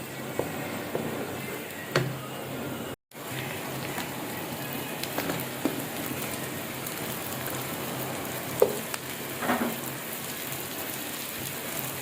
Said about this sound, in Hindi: उसी ऑयल में अब हम प्याज ऐड करेंगे।